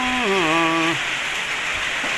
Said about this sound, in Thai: ฝนตกลงแล้ว